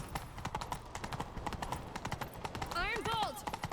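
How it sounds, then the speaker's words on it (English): Horse hooves clip-clop at a steady gallop in the fantasy video game The Witcher 3, a continuous rhythmic pounding heard under speech and game music. "Grab a horse, we'll chase him down."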